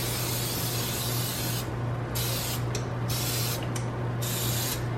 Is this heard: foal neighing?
no